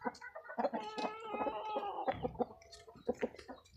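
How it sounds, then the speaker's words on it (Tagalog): Caged fighting roosters cluck and squawk close by, several birds calling over one another in quick, uneven bursts. "Maraming panabong nasa kulungan."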